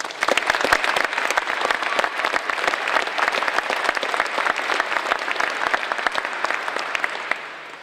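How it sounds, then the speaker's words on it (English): Audience applause at a military retirement ceremony for the airman escorts and honor guard, a steady wash of many hands clapping throughout, moderately loud and unbroken by speech. "Let's give them all a round of applause."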